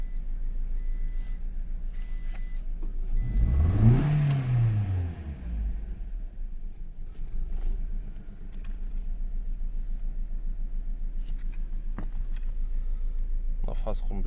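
A 2014 Toyota Corolla with a misfire, rough running and weak power idles after being started, giving a steady low engine drone that swells briefly before settling again.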